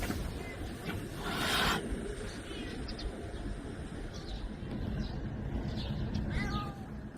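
A cat meows a few times, faint and somewhat distant, over steady background noise.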